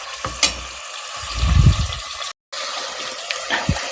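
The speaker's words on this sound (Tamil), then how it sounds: "ஆனியன் நல்லா வதங்கட்டும்." Onions sauté in a pan for biryani, giving a soft, steady sizzling hiss with a few brief clatters and a short gap of silence.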